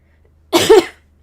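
A single short, harsh cough burst close to the listener, with a faint low hum underneath and quiet before and after.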